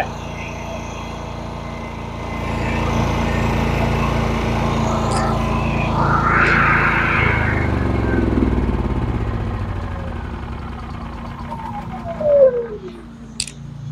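A Predator 9500 inverter generator starts up and settles into a steady, moderately loud engine drone, with a few short clicks and clanks near the end.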